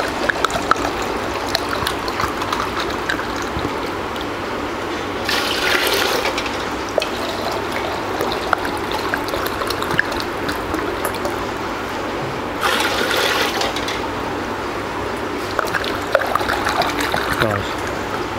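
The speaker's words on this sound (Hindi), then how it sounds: "बीच में 5 लीटर पानी डाल दिया हमने" Water pouring into a container while mixing soda syrup at a soda filling plant, 5 litres going in as a steady trickling, splashing flow that runs throughout with a busy background, and a voice talks over it.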